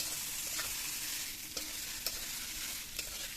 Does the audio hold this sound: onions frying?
yes